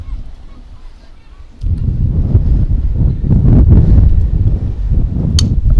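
Heavy wind at a softball game buffets the microphone with a loud, rumbling roar that jumps up in strength after a moment and stays strong.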